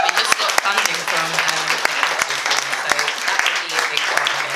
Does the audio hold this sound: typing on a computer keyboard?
no